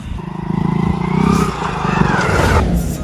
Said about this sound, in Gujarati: પણ બાઈક હળવે ચલાવજે